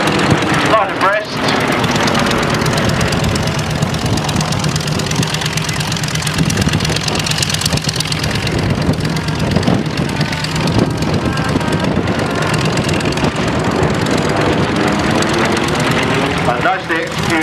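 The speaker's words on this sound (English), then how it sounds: "Engines running very sweetly in this aeroplane." Vintage propeller aeroplanes fly past line abreast at an air display, their engines a loud, steady drone that fills the whole stretch, with brief lulls near the start and end.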